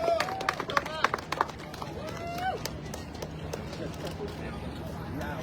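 A community rally crowd in East New York claps and cheers, a burst of clapping up front with sharp whistles over it, settling into a steady murmur of voices and scattered noise.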